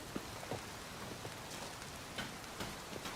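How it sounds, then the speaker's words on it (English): Steady rain falls in The Witcher 3, a dense even hiss with a few soft drop ticks and faint splashes, alone and fairly quiet. "It's raining."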